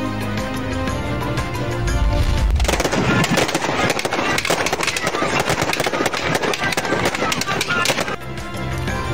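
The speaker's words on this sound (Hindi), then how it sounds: "कराची में मैरीटाइम एक्सपो की कामयाबी पर लॉन्चों से आतिशबाजी का मुजाहिरा।" Fireworks launched from boats at the Karachi Maritime Expo crackle in rapid, gunfire-like bursts that start suddenly after a quieter lead-in and continue densely for several seconds.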